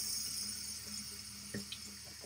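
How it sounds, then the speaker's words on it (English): Tap water running steadily into a sink while the ends of baking whisks are rinsed, a faint, even splashing hiss with a small clink partway through. "I'm just going to wash the whisks, the end of the whisk."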